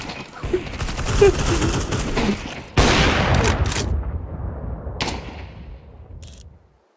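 Bursts of gunfire from Counter-Strike 2, a dense fusillade running several seconds with a sharp new volley midway and a few short cracks after, loud and close, fading out at the end.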